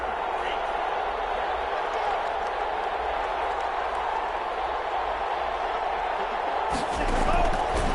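A dense crowd roar rises and swells in a PS4 sports video game, a steady wash of cheering with a louder surge near the end, while a commentator's voice talks over it.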